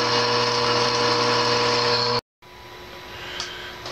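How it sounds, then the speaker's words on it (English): A power drill whines steadily while boring holes through steel brackets in a shop, loud and close, then cuts off abruptly and leaves a quieter background hum with a faint tick. "This is one of 16 holes we have to drill today."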